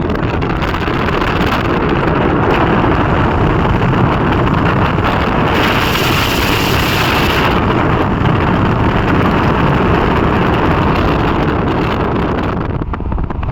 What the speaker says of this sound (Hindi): हवा बहुत ज़्यादा तेज़ है